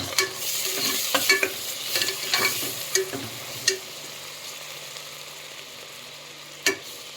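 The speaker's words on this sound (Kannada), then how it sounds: "ಈ ಈರುಳ್ಳಿನ ತೀರಾ ಫ್ರೈ ಮಾಡಲಿಕ್ಕೆ ಹೋಗಬಾರ್ದು, ಸ್ವಲ್ಪ ಫ್ರೈ ಮಾಡ್ಕೊಬೇಕು" Onion and tomato frying in coconut oil, a soft sizzle under repeated spoon scrapes and knocks against the pan, tapering to a quieter hiss with one last clack near the end, no talking.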